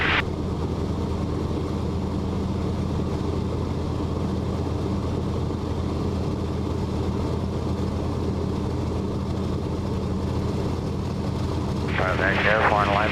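Martin Mars flying boat engines running, heard from inside the cockpit: a loud, steady, droning piston roar that continues throughout, with a brief burst of crew radio talk near the end.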